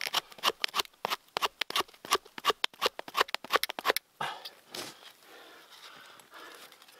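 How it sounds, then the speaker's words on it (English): The serrated edge of a shovel scrapes wood in about twenty quick, crisp strokes at close range, then fades to a softer, looser rasping. "Use the serrated part and just scrape."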